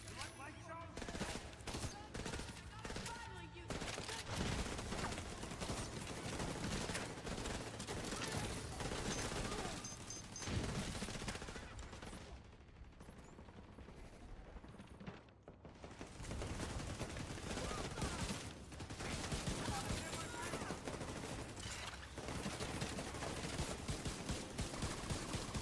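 Rapid gunfire bursts from The Division 2, loud and sustained across most of the stretch, with a brief lull midway before shooting resumes, mixed with game effects and occasional voice.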